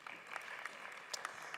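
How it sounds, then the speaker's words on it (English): Very faint applause from a conference audience at a medical cannabis regulatory session, a thin, distant patter of clapping with a few sharper individual claps. "Let's give a round of applause."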